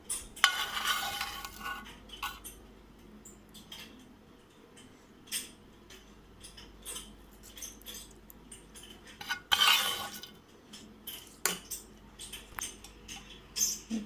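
Spoon stirring a hot tempering into peanut chutney, a series of faint scrapes and metallic clinks against a bowl, close and quiet, with brief louder bursts of sizzle-like rustle near the start and middle.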